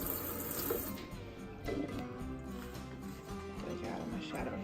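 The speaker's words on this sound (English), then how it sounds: "So I'm gonna just fill this up so all the seeds can be in the water" Tap water runs steadily into a container of seeds being soaked for fodder, a continuous rushing splash heard up close, with someone talking over it.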